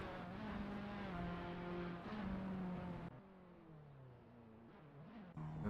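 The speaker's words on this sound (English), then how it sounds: "the classic Assetto Corsa pit stop of just yeeting into pit lane" Race cars in the Assetto Corsa racing game pull into pit lane at Interlagos, engines droning loud with shifting pitch, easing off partway through and then picking up again at the end.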